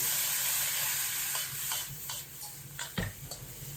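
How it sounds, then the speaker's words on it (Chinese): Dry-fried green beans tossed in a wok over high heat with a splash of cooking wine: a steady sizzle with scattered scraping clicks of the spatula, growing busier toward the end, with no voices. "少许料酒沿锅边淋入，开大火快速翻炒。"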